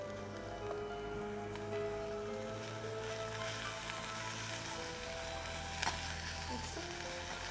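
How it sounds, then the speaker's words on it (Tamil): Chopped onions fry in oil on a hot tawa, giving a quiet, continuous crackling sizzle with an occasional sharper pop and no talking. "தவா வச்சுட்டு ஆன் பண்ணி எண்ணெயை விட்டுட்டு அதில் ஆனியன்"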